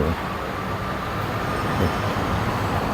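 A train rumbles at the Hua Lamphong railway station platform in Bangkok as a loud, continuous broadband roar that stays steady from start to finish with no talking.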